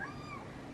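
A house cat gives a short meow, close and fairly quiet, a single brief rising-falling call lasting under a second with faint room noise behind it.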